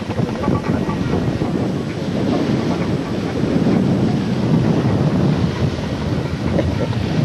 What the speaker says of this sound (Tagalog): Mahangin dito.